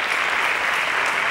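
A dense, even burst of audience applause at a televised maths contest, a steady wash of many hands clapping with no pauses over a short moment.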